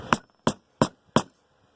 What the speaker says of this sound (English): Just smack it a couple times with the hammer